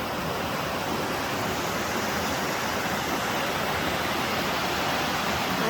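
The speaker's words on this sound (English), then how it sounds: "I hope you can hear the water too." Steady broadband rush of a winter waterfall at Canyon Falls in Michigan's Upper Peninsula, snow falling, a continuous even roar with no pauses or voices.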